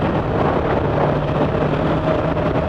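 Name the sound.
Yamaha YZF-R3 motorcycle riding at 4,500 RPM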